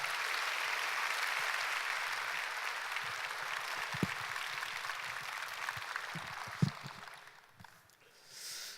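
A church congregation applauds during a Sunday worship service to welcome a pastor to the pulpit. The steady, dense clapping fills the room for about seven seconds, then fades out.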